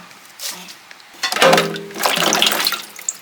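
Tap water running and splashing in a sink while food is washed with salt, a steady gush that swells in the middle and carries on, heard up close with no talking.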